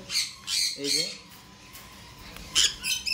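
Baby red-collared lorikeets squawk in short, harsh, near bursts, several in quick succession with a brief pause and then more calls.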